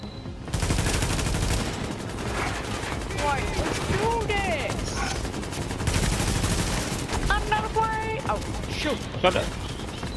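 Gunfire from The Division's Madison Field Hospital mission rattles out in dense, continuous automatic bursts, loud and sustained across the whole stretch, with voices talking through the shooting.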